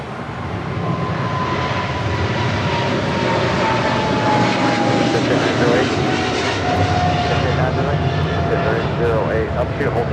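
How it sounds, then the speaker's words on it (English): An EVA Air Cargo Boeing 777 freighter departs Los Angeles International Airport for Taipei, its jet engines a loud, continuous roar with a slowly falling whine, while someone talks over it. "That is Eva Air Cargo 609 departing to Taipei on a 777 freighter."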